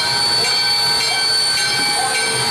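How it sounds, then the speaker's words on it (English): A 1906-built Duluth and Northeastern 2-8-0 Consolidation steam locomotive, number 28, running: loud, close, continuous rail noise with hiss and steady tonal ringing, heard alone. "completed the restoration of a 1906 built Duluth and Northeastern 280 consolidation steam locomotive number 28."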